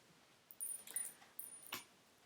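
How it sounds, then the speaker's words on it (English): A single dog makes a few short, high whimpering yips, faint and distant, in quick bursts over a quiet background. "one dog making a lot of noise"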